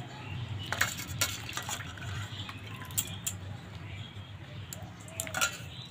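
A spoonful of lime being stirred into water in a bowl while mango preserve is being prepared, giving soft watery swishing with a few light metallic clinks of the spoon against the bowl, close and fairly quiet.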